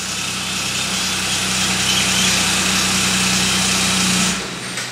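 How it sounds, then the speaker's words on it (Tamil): A car engine hums steadily at a loud, even pitch, then cuts out abruptly after being switched off remotely from a smartphone app, leaving near silence. "இன்ஜின் பார்த்தீங்கன்னா ஸ்டாப் ஆயிடுச்சு"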